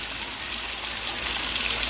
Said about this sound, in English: So I kept hearing the falls, but I didn't know where they were.